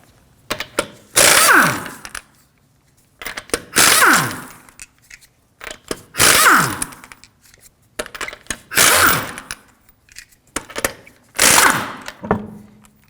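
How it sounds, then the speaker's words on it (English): Five separate bursts of a power tool with a 19mm socket spinning lug nuts off the front wheels of a 2013-2015 Subaru XV Crosstrek, each a loud whirring rattle that drops in pitch, with quiet gaps between. "Now we're going to use a 19mm socket to remove the wheels."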